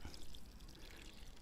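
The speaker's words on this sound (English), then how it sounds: "So then I will just gently water them in like this." Watering can gently pouring water onto basil plants: a soft, steady trickle and splash lasting over a second, faint and close, with no talk.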